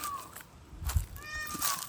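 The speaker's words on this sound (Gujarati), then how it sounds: "ને વરસાદના લીધે હવે મોરલાઈ ટહુકા કરે છે." Peacocks calling near a village dam after heavy rain, where many of the birds live: a brief high wail at the start, then a longer, drawn-out nasal call later on, moderately close, over low background rumble and a dull thump midway.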